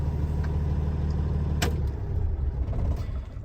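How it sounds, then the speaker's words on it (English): A truck's idling engine hums steadily, then a sharp click sounds as it is shut off and the low drone fades away, leaving quieter mechanical ticking and rumble. "Now we're gonna shut off the truck."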